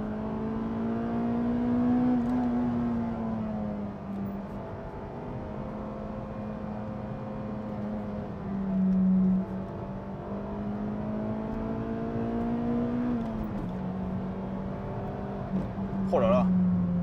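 A Honda Civic Type R EP3 four-cylinder engine heard from inside the car, droning steadily and climbing to high revs with rising pitch through the gears, while someone talks throughout.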